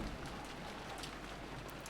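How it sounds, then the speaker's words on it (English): Downpour of rain from the visual novel Umineko no Naku Koro ni, a faint, steady wash of falling rain with soft scattered drop patter, continuous and alone. "the sound of the downpouring rain kept turning their attention toward the mystery guest"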